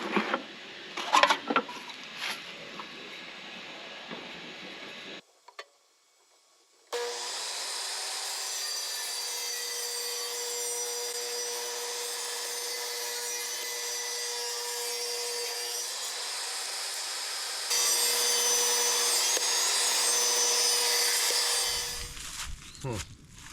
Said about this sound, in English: I'm just gonna use a 2x2 and rip it down.